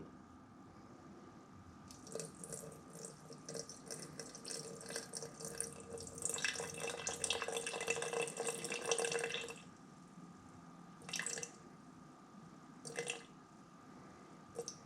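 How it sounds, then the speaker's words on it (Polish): About 70 ml of water runs into a container of rye sourdough starter in bursts, building to a steady stream midway, then stopping with a couple of short trickles afterward. "Ja dodaję do niego 65-70 ml wody."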